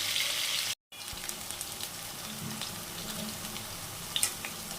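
Potatoes frying in oil in a home kitchen for a tilapia curry with greens, a soft steady sizzle throughout with faint clinks and scrapes, a brief dropout near the start.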